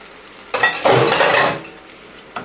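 Diced tomatoes being stirred into a pot over heat, a brief wet scraping swirl with a soft sizzle that rises for about a second, then settles back to a quiet simmer.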